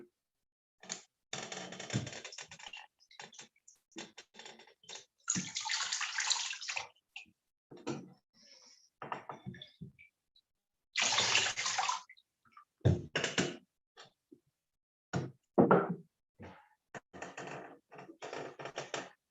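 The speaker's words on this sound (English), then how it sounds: "So we can now rinse off our feet." Water sloshes and splashes in bursts as feet are rinsed in a foot soak basin, irregular close splashes separated by short quiet gaps.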